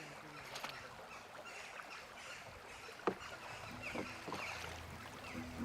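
A small boat on a river moves over the water, faint soft lapping and knocking with one sharp thud midway, against a quiet outdoor background with brief distant voices.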